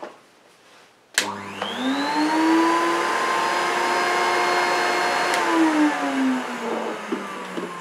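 A 1980s Hitachi Stowaway bagless vacuum cleaner starts with a click, then spins up into a loud, steady whining motor hum that holds near the microphone before its pitch dips slightly at the end.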